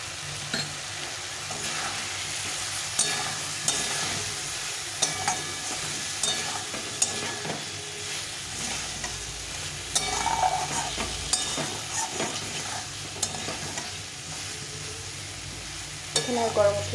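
A spice paste for taro curry is stirred and sautéed in a pan, a soft steady sizzle broken by repeated scraping and knocking strokes of the spoon at close range, with no talking.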